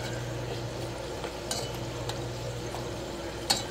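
Potatoes frying in a pan as the crispy base for Persian tahdig, giving a steady low sizzle with a faint crackle throughout and a couple of sharper ticks near the end, no voices.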